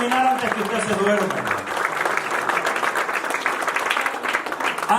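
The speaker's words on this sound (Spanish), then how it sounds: "Denle un aplauso al Rey de Reyes." A church congregation applauds steadily in a large room, a sustained wash of clapping with a preacher's voice briefly heard at the start.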